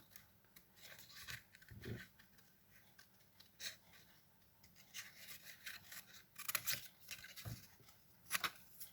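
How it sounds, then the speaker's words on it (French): Scissors snipping around a small paper branch cut out for a handmade pocket card, with quiet, close, intermittent cutting and rustling of paper. "je viens découper pareil tout autour de mon petit bout de branche"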